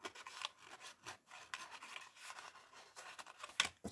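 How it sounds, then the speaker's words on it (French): Masking tape being pulled and pressed down by hand, heard as soft repeated rubbing and tearing scrapes with a sharper rip near the end, close and quiet. "Puis là, je mets mon scotch de masquage."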